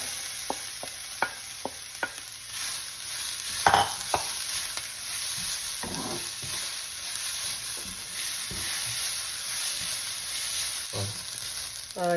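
Ground coconut frying with onions and urad dal in a pan, a soft steady sizzle punctuated by scattered spoon scrapes and taps from stirring, no voices.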